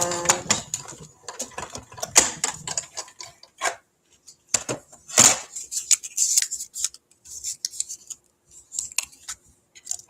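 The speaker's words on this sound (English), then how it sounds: "So let's run it through the machine real quick because I haven't done that yet." Paper cutting die fed through a die-cutting machine, a run of close clicks, cranking and mechanical rattles in uneven bursts with pauses between them.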